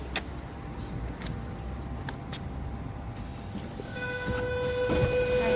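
Rumbling interior noise of a passenger train travelling in Sydney, a steady low roar with scattered clicks, later joined by a brief tonal whine or squeal toward the end as the ride continues.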